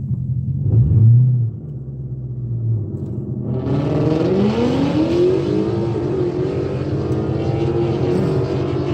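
A modified, non-stock McLaren race car accelerates on a track: a deep rumble first, then a loud, rising, raspy engine howl as it pulls hard, close and continuous.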